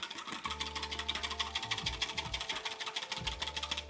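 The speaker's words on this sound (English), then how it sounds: "give that a little whisk to combine" A whisk beating rapidly against a bowl to combine a vegan broth mixture for a squash and wild rice bake, a steady quick rhythmic clatter heard alone and close.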